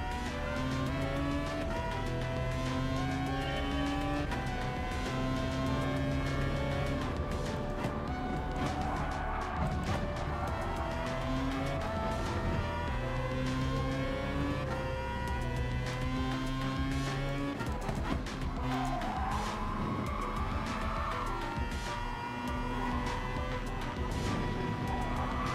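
Race cars in Gran Turismo Sport roar around the track with engines revving and shifting pitch, tires squealing and occasional impacts, loud and continuous throughout.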